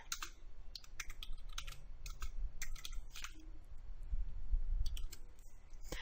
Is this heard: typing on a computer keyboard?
yes